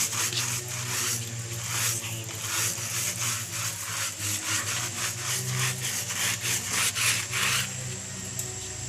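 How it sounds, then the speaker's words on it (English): Hard, rhythmic scrubbing rasps over a bicycle's front tire during a wash, a fast back-and-forth rubbing close up and steady throughout with no talking. "You have to scrub the tire very hard, all the dirt should go."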